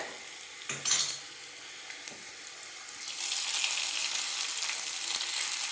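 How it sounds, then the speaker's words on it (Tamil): White sesame seeds fry in a pan for a Tamil palak and peas gravy, giving a soft scrape of stirring before a steady, faint sizzle rises and holds through the rest. "எள்ளு வெள்ளை எள்ளு ஒரு டீஸ்பூன் அளவுக்கு சேர்த்துக்கலாம் நல்லா பொரிஞ்சிருச்சு"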